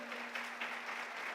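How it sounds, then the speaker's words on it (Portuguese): A church congregation applauds during a service, a brief burst of steady, moderately quiet clapping from many hands with a faint steady hum beneath it and no voices over it. "dê uma salva de palmas para Karen, irmãos."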